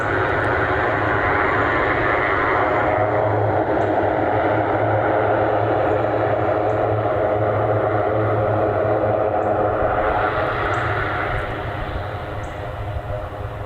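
A United Airlines Boeing 757-300 takes off, a loud continuous roar of jet engines with a broad rushing tone that holds steady and then eases slightly toward the end, heard outdoors with no talking.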